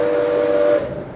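A steam whistle on a 1909 Stanley Steamer car blows one steady, loud, near tone for most of the moment, then cuts off and leaves a fading rumble.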